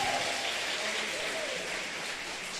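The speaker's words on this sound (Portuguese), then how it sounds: "Esse aplauso é uma forma, pode aplaudir." Continuous applause from an audience at a church seminar, a dense even patter of many hands clapping that holds steady throughout at moderate loudness, with no speech over it.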